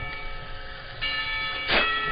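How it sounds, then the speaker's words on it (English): School lunch bell in the Katawa Shoujo visual novel, a steady electronic ringing tone that swells louder midway and peaks with a brief bright burst near the end, alone without talk. "Lunch bell rings"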